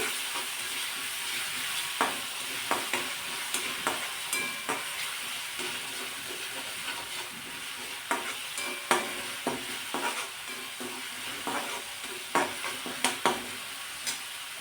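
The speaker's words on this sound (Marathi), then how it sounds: "परतून घ्यायचं हे तेलावरती" Sautéing in oil in a pan for potato alu vadi, a soft hiss of frying with repeated scraping stirs that tick and clack at irregular intervals, close and without talk.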